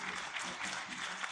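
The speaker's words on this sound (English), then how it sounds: "Please give them a huge round of applause" A brief stretch of crowd applause at a national conference on mental well-being, a dense, even patter of many hands clapping at moderate distance with no clear beginning or end.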